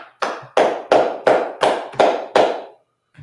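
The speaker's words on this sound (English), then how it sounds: "Let's go ahead and clap it up." A small group claps in unison at a Sabbath service, seven loud, sharp, evenly spaced claps in a steady rhythm with a short pause after the last.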